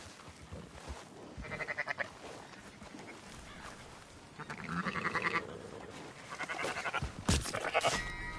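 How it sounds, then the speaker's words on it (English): Sheep bleat in Red Dead Redemption 2 while a rider herds the flock, several loud calls spread across the scene, mixed with movement noise and game ambience and no talk over them. "Marston, why don't you leave the sheep to me?"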